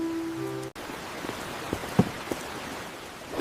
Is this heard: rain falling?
yes